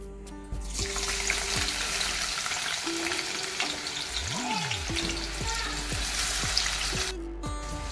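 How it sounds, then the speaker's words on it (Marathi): Chopped onion hits hot oil in a wok for a village-style country chicken curry, giving a loud, steady frying sizzle that runs almost the whole time, with faint tonal background sounds underneath and no talking. "कढईमध्ये आता तेल टाकलेलं आहे आता त्यामध्ये मी कांदा टाकते आपलं तेल चांगलं तापलेलं आहे"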